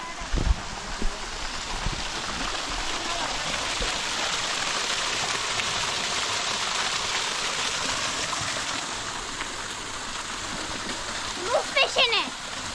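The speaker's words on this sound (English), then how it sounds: "Oh, there's a little waterfall here." A small waterfall in the Tianjin mountains splashes in a steady, hissing rush of falling water that continues throughout, with a few brief knocks near the start and faint voices toward the end.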